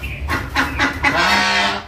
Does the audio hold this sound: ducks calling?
yes